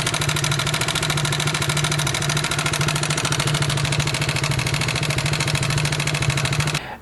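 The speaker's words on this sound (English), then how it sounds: "Dead rockers sound like this" Motorcycle engine with worn, failing valve rockers, idling. A steady, fast mechanical ticking and knocking rides over a constant mid-pitched engine hum, close and even throughout before cutting off at the end.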